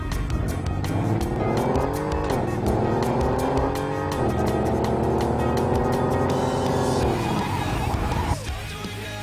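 Toy car engine whine from the game Super Toy Cars, loud and continuous with rising and falling pitch as the car drifts through turns, tires squealing, then a sudden drop near the end.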